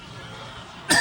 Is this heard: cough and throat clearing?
yes